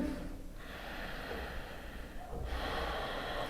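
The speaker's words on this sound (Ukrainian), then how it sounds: "дихаємо глибоко рівно через ніс, пристискаючи голосову щелину" Deep, even breathing through the nose during a yoga session: a couple of long, airy inhales and exhales, close and fairly soft, with no talking.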